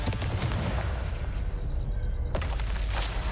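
Fiery Confringo spell blast from a Harry Potter video game, a dense, roaring rumble that fills the short stretch loudly and continuously, with a sharper burst near the end and no talking.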